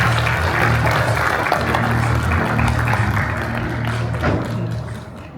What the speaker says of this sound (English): With a round of applause, please join me in welcoming our chief guest to deliver his speech today